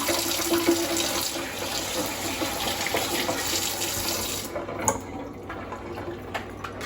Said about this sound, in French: Là, on va laver la main.